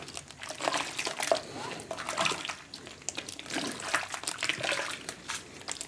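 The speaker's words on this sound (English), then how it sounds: "give it a good stir." Liquid sloshing and swishing as grocery store bourbon mash is stirred in a container, irregular wet strokes of moderate loudness, close up.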